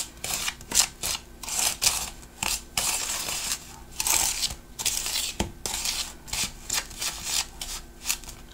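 Homemade bathroom cleaning paste for limescale being stirred and scraped in a container, a steady run of close gritty scraping strokes with short pauses, no talk heard.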